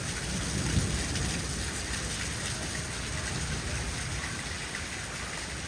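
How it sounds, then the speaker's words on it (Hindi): Heavy rain pours steadily in Islamabad in a dense, constant hiss, with a low rumble of thunder beneath it. "इस्लामाबाद में अब मूसलाधार बारिश हो रही है।"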